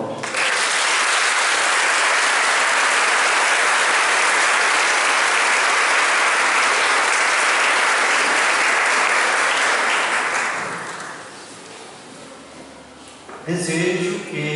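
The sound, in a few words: church congregation applause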